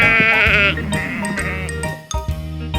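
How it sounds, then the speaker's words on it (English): Several loud, quavering sheep bleats in a farmyard, one long wavering call followed by shorter overlapping cries close by, with no talking. "Here come the fluffy sheep."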